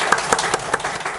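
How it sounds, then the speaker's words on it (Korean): A church congregation at a Sunday Easter service applauds to welcome first-time visitors, a short burst of several sharp, irregular claps from a small group with no talk over it. "오늘 처음 방문해 주신 분들이 있는데 박수로 환영하도록 하겠습니다"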